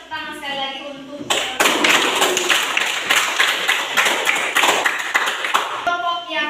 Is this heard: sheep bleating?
no